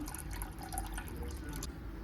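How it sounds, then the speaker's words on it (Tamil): Brine from salted baby mangoes for vadu manga pickle poured into a dry bowl, a steady trickling, dripping liquid stream, close and continuous for a couple of seconds. "இந்த மாங்காயிலேருந்து வந்த ஜலத்தை வந்து ஒரு பவுலில் ட்ரான்ஸ் ட்ரையாக இருக்கிற ஒரு பாத்திரத்தில் ஆட் பண்ணிக்கிறேன்"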